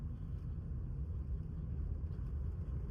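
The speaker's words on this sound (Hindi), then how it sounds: "पर देखो ना भाई कैसे मुड़ रही है गाड़ी।" Low, steady road rumble from a Volkswagen Virtus GT with a manual gearbox as it drives around a curve, a dense engine and tyre drone without clear changes.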